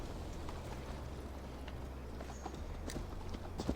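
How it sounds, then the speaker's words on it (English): Horse hooves clip-clop at a steady walking pace in Assassin's Creed Valhalla, a moderately close, even rhythm over a low rumbling ambient bed, with a few louder knocks near the end. "We're taking a horse."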